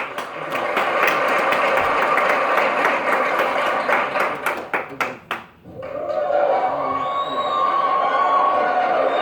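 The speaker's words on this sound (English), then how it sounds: "give a round of applause for Henrietta" A talk show audience breaks into loud, dense applause that holds steady, thins into scattered claps and then falls away to a quieter room.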